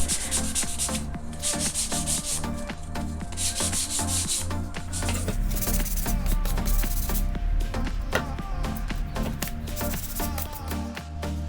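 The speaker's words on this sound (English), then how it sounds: "Then it was back to a lot of sanding and priming each piece." Wooden dresser pieces are sanded by hand in steady, close rubbing strokes that come in rhythmic bursts and run continuously with no voices over them.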